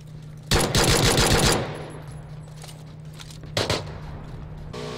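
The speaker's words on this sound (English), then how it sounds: "I think I'm hearing some good shots." Gunfire in PUBG (PlayerUnknown's Battlegrounds): one loud burst of rapid automatic shots early on, then a shorter second burst, over a steady low hum of game ambience.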